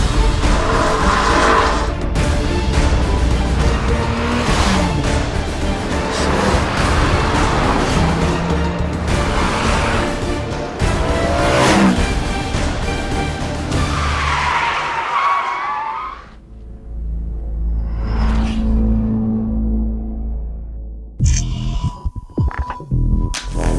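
BMW E30 M3 driven hard on a race track, engine roaring and rising through the gears with tire squeal and skidding as it corners, loud and close, then a quieter pass and fading hum toward the end.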